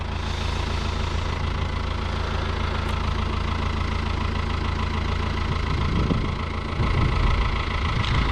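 A New Holland TD85 tractor engine idles with a steady, loud, continuous rumble, close by and uninterrupted, with a brief rise in roughness near the end.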